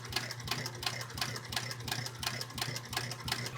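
A sewing machine stitches leather fringe onto a pair of chaps, its needle running in a fast, steady, rhythmic chatter that stays close and even for the whole stretch, with no talking.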